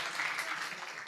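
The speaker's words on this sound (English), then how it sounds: "let's give a round of applause to organizers for organizing this fantastic event" An audience at a sustainability forum applauds the event organizers, a brief, soft wash of many hands clapping together, heard from a distance.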